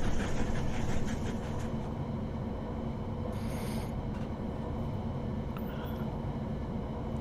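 A train running in Train Sim World 2: a dense, continuous mechanical rumble and rattle of wheels and carriages, steady throughout with a brief brighter hiss partway through and no talking.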